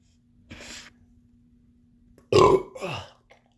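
A loud, deep burp comes out during a burping contest, preceded by a softer breathy sound, and the burp rolls on in two strong bursts.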